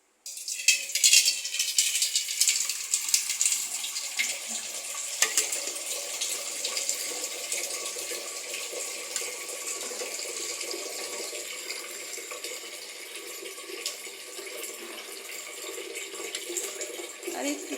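Water pours into a pot of beef biryani cooking with spices, a continuous splashing gush with a rattling edge that begins abruptly and runs steadily, with a voice faintly underneath.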